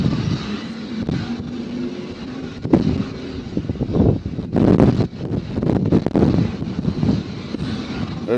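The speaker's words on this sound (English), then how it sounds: "As you can hear the wind." Gusty wind at an airport buffets the microphone in uneven bursts, with a low engine rumble running underneath and the strongest gusts arriving past the midpoint.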